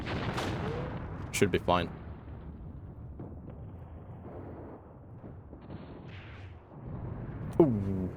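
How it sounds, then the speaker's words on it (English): Distant machine gun fire crackles in the WW2 game Mius Front, faint scattered bursts under quiet background noise, with someone briefly speaking. "this is a lot of MG fire towards these poor guys"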